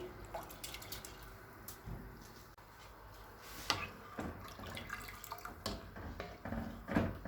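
Soaked rice, hand-rubbed after 20 to 25 minutes of soaking, being put into water for kheer: faint splashes and trickling drips in a kitchen, with a few sharper clinks near the middle and end.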